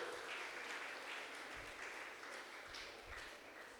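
An audience at a dental college welcome ceremony in a diocese claps steadily and evenly, a fairly faint, distant wash of applause with no voices over it.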